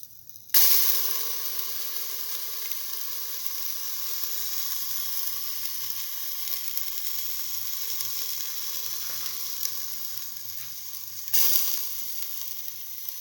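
Ginger hits a hot pan with a sudden loud sizzle that settles into a steady bright hiss of frying for a mungbean and coconut stew, briefly flaring again near the end, with no voices.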